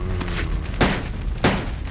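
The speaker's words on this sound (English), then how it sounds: "Why are you shooting the air?" Two loud, separate gunshot blasts from the video game Resident Evil Code Veronica X, about half a second apart, over a steady background of game ambience.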